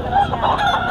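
A black rooster crows in one sustained, loud call, close by and with no talking over it, at a roadside rooster market.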